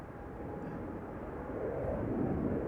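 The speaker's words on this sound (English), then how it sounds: "Dreamliner taking off from 18 left." A Boeing 787 Dreamliner takes off from runway 18 Left at Schiphol airport, heard as a faint, distant, broad roar that slowly builds over a few seconds.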